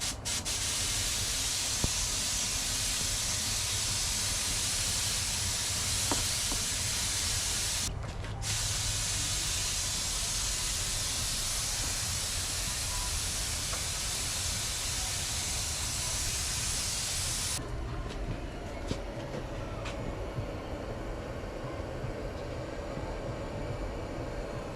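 A Harbor Freight HVLP spray gun lays down a final clear coat: a steady airy hiss broken by a brief cutoff, then resuming with a shifted, slightly lower tone near the end.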